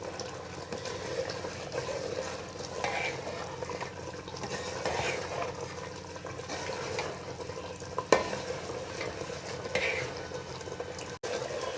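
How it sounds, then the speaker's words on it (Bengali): Mutton fries in a pot with biryani spice while it is stirred, making a steady bubbling sizzle with periodic scraping and one sharp knock partway through. "এখন আর একটু কষিয়ে নেব।"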